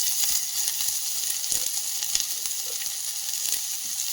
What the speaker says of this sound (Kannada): ಕಂದು ಬಣ್ಣ ಬರುವವರೆಗೂ ಸ್ವಲ್ಪ ಬಾಡಿಸ್ಕೊಳ್ತಿದ್ದೀನಿ